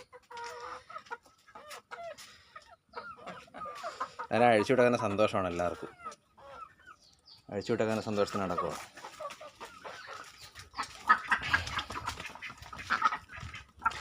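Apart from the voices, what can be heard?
hen (Kappiri breed) clucking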